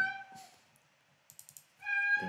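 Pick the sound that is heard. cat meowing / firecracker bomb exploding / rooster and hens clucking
cat meowing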